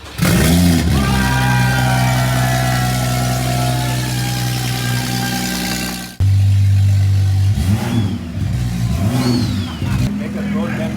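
A crashed, damaged BMW M135i F20 engine is cranked and fires up, running loud and close, cutting out briefly and then restarting into rising and falling revs, with a person talking over it.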